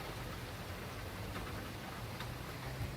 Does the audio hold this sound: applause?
no